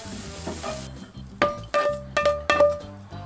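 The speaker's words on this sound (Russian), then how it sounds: "Я без масла жарю, потому что с маслом более жирный" Food stirs and sizzles in a dry pan without oil, with a series of sharp clinking scrapes of a utensil against the metal.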